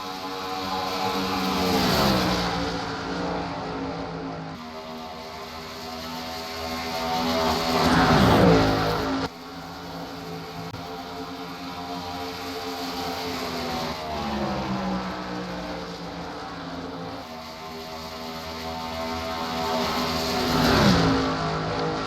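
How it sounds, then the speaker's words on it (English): Race cars at Chicagoland roar past continuously in a racing series, engine tones sweeping up and down as cars close in and pass in repeated waves, loud and sustained with no talking. "What a crazy battle it has been, as now they're racing hard for third."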